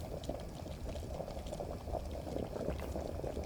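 Beer wort boiling in a brewing kettle in the video game Brewpub Simulator, a steady dense bubbling and rolling simmer that continues evenly throughout without any talk.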